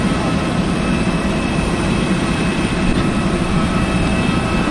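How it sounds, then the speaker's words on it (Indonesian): A US Air Force plane landing at Halim airport in Jakarta, heard as a steady, loud, low engine roar that holds evenly throughout with no talk. "Ini US Air Force landing di Halim."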